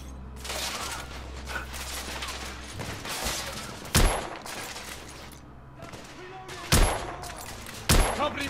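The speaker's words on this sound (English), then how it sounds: "Oh, I've got the sniper rifle now." Sniper rifle shots ring out in the shooter The Order: 1886, a few sharp loud cracks spaced seconds apart over a busy background of distant gunfire and battle noise.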